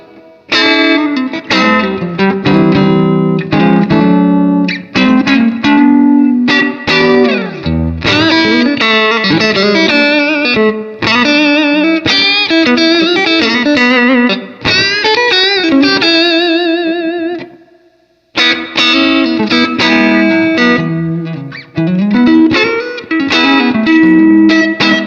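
Clean electric guitar through a Fender Super Reverb amp playing chords and melodic runs, bright and sparkly with a touch of reverb, loud and continuous with a brief pause near the end.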